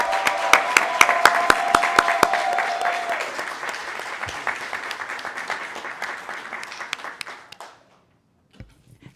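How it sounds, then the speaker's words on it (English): Audience applause at a Broward County Public Schools board meeting honoring a scholarship fair contributor, a dense run of claps lasting about seven seconds with a few distinct sharp claps, then fading out to scattered final claps. "Let's give her a round of applause."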